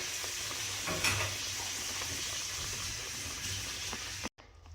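Filling for Puerto Rican pastelillos stirred in a pan over a steady close sizzle, with scattered scraping taps, cutting briefly to near-silence at the end.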